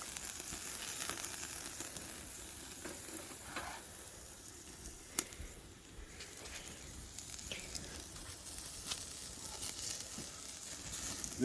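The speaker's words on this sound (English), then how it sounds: "I've got some potatoes in their jackets cooking there." Potatoes cooking in their jackets give a steady close sizzle and frying crackle, with small pops and a brief sharp crack partway through, continuous throughout with no talk.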